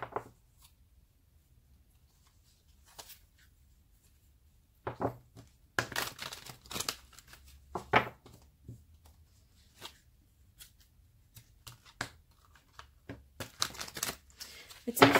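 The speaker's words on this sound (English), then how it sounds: "So start shuffling these cards here." Archangel Tarot cards are shuffled by hand close to the microphone, quiet at first, then a run of soft riffling, flicking and papery slides in irregular bursts that grow busier toward the end.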